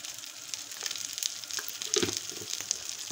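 Pieces of eggplant sizzle and fry in an oily pan, with a steady crackling hiss and a few brighter pops and stirring sounds, alone and close by.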